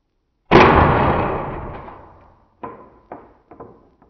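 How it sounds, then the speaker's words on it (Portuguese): A CBC Jade Pro air rifle fires one sharp, loud, close shot whose crack trails off over about two seconds, followed by a few quieter mechanical clicks and knocks. "estamos prontos, vamos então ao nosso disparo."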